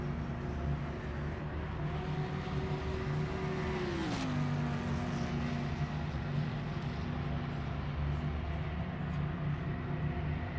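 A Corvette GT3 race car in Project Motor Racing holds a steady, droning engine note that drops in pitch once partway through, then settles into an even hum.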